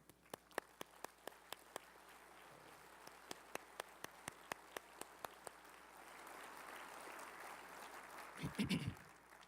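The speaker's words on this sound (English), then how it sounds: "I would ask that you would join with me in thanking them with a round of applause" A conference audience at a beef industry general session claps for a task force, starting as a few distinct, spaced claps that swell into a steady, quiet wash of applause, with a brief low rumble near the end.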